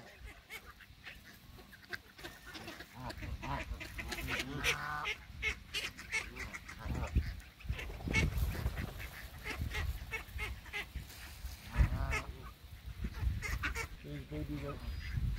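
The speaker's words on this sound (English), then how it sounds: "So there's a white goose there." Geese honk repeatedly on open water, mixing with quacking fowl at moderate distance, while people talk nearby throughout.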